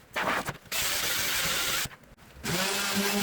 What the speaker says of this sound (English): Using a round rotary flap disc sandpaper on my cordless to get into the middle of the centerpiece